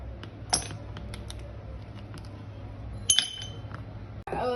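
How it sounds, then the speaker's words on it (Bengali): A few ice cubes clink sharply into a glass while a mango milkshake is being made, two distinct bright clatters separated by a quiet kitchen background. "কয়টা বরফ দিয়ে দিব।"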